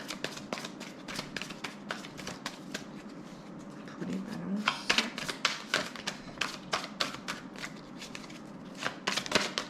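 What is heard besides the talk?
shuffling oracle cards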